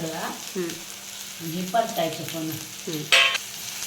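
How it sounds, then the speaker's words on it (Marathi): Spice paste for a spicy curry sizzles and crackles in a hot pan while a spoon stirs and scrapes, with a voice talking over the cooking sounds. "मसाला परतून घ्यायचा छानपैकी"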